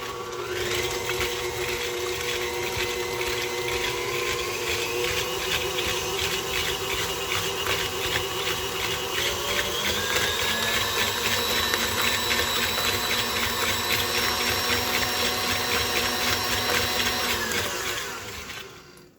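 An electric mixer whirring steadily through lemon butter cookie dough, a loud continuous motor whine with rhythmic churning that holds for several seconds before winding down at the end.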